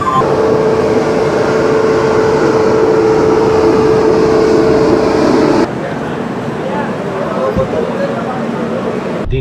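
Passenger train pulling out of Pandit Deen Dayal Upadhyay Junction, a loud continuous rumble with a steady drone that drops in level partway, heard from on board.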